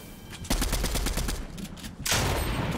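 Rapid bursts of gunfire from the golden shotgun in Fortnite during a Christmas-season match, with several sharp shots close together followed by a louder blast near the end, with no talk.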